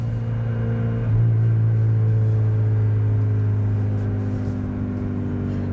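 Mitsubishi Evo 8 exhaust heard from inside while driving, a steady low droning hum that swells slightly as the car pulls, moderately loud with no talk.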